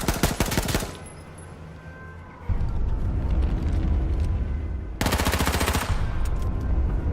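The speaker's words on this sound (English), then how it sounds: "Someone was shooting at me." Automatic gunfire in the online battle game H1Z1 rattles out in two loud, rapid bursts of shots, one opening the clip and another a few seconds later, with a lower rumbling stretch between them.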